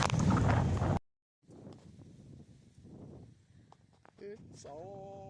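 Wind rushes and buffets while riding a motorbike down Mt St Helens, a loud burst at the start, then a steadier rumble with some faint tonal whines and a brief chirping sound near the end.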